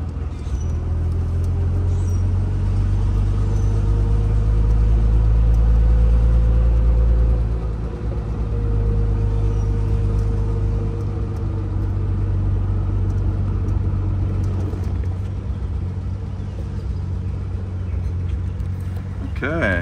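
A 1962 Jaguar XKE passes by with a loud, deep engine rumble that peaks in the first few seconds and then fades into a lower drone, and people talk nearby.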